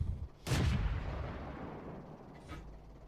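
Tank gun fired in World of Tanks, one loud close booming shot that rolls off into a long fading rumble, followed by a fainter distant report, with no talk.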